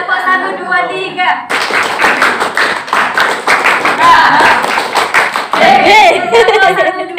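A class of students runs through a clapping-game pattern in an Islamic religious education lesson, with a long series of rhythmic group hand claps, loud and close, alongside a teacher's voice leading the count.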